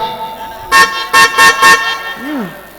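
A car horn gives four short loud honks in a quick, slightly uneven series, followed by a brief rising-and-falling squeak, heard up close over a low hum.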